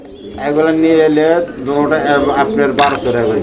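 A pair of Tiger Danish pigeons coo loudly up close, their rolling throaty calls coming in repeated swells, while someone speaks at the same time.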